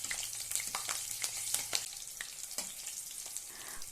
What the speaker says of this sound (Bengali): এবার ফোড়নটাকে কয়েক সেকেন্ড একটু ভেজে নেব